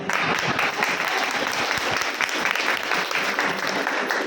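An audience applauds during a closing speech at a Milifestyle event, dense and loud clapping that continues steadily throughout.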